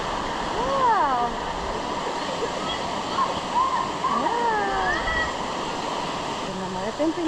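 A river flowing at its far end past big rocks in Pooc, Balayan, Batangas, a steady close rushing water noise under voices talking through the whole stretch.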